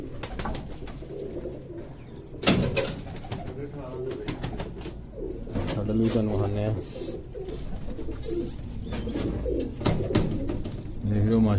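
Pigeons coo softly in a loft where chicks are being raised, with repeated low calls throughout while someone talks over them nearby.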